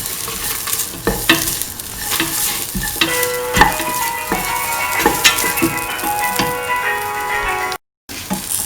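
Snake gourd sautéing in a pan, a steady loud sizzle with repeated scraping and clacking of the stirring spoon against the pan, heard up close with a brief dropout near the end and no talk.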